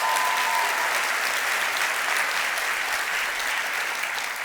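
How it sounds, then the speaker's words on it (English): Dense, sustained applause from a conference audience for two business leaders, steady and loud from start to finish with no break. "Give those two men a round of applause."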